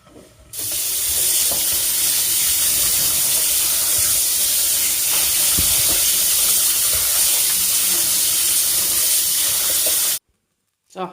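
Cooked mushrooms being shocked under cold running water, a loud, steady rushing stream that runs close and unbroken for about ten seconds before cutting off abruptly.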